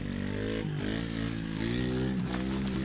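A cheap small scooter revs its engine as it pulls away on a muddy track, a close, steady buzzing drone with small shifts in pitch.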